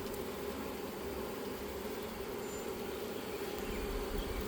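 A swarm of honey bees hums loudly and continuously at close range during a hive transfer, a dense, even buzzing with no talk.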